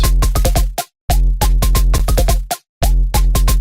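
Punchy, rapid drum hits sit over a deep booming gun-style sub bass layered underneath, in choppy bursts separated by brief silences, loud and heavy.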